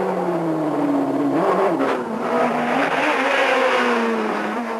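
Peugeot 306 Maxi rally car driving hard over a bump, engine revving loudly and close with rising and falling pitch, a brief dip in the note as it crosses the bump, then pulling again.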